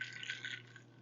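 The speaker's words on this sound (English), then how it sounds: "And I'm just going to pour that in a glass." Cherry lemonade is poured into a glass, a faint, brief trickle of liquid over a low steady hum.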